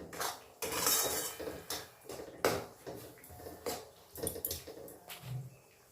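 Spice paste for a wedding-style rohu fish curry is stirred in a pan, with a metal spoon repeatedly scraping and knocking against the cookware in irregular, close-up clatters.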